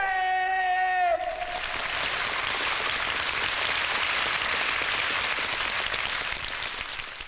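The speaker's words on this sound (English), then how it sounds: "Applause, admiration," A theatre audience in 1965 Moscow bursts into thick, rain-like applause just as an actor's drawn-out, anguished cry from Othello ends, then the clapping carries on steadily and evenly.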